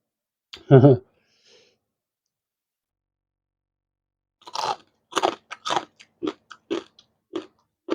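Crispy pork tail papaya salad is bitten and chewed up close: a brief hum, a pause, then a run of sharp, crunchy bites and chews in an irregular rhythm.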